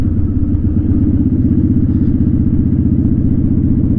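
A motorcycle engine runs loud and close with a steady, throbbing mid-low drone as the rider blips the throttle to rev match on a downshift into first, with no distinct rev spikes standing out.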